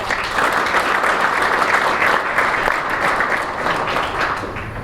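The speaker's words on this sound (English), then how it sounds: "So big round of applause for the crew." Loud, steady applause from a gathered crowd honouring a renovation crew, with dense clapping that holds throughout before easing slightly at the close.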